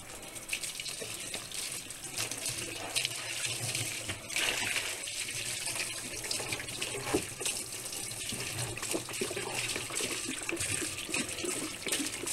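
Vinegar pours steadily into a 5-gallon bucket holding metal traps, a continuous splashing water-like rush with scattered clinks running throughout at moderate level.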